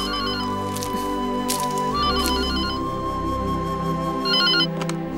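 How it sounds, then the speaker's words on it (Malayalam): A telephone rings in a home, three short bursts of electronic trilling tones spaced evenly over a low steady background hum, fairly loud and close. "ശ്രീയേട്ടനമ്മേ ഫോൺ."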